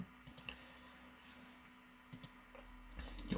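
A few sparse, soft clicks of typing on a computer keyboard, entering a date and time into a trade journal. Short bursts come near the start, middle and end over a quiet, humming background.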